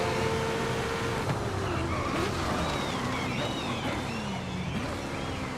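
A twin-turbocharged car in Forza Horizon 5 drives hard. Its muffled engine roar is laced with squealing, skidding tyres, and the sound holds a constant loud level throughout.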